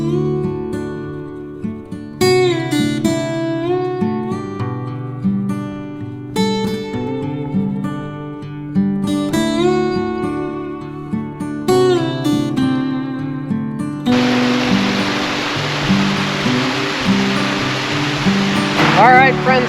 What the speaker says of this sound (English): There's a nice little waterfall here.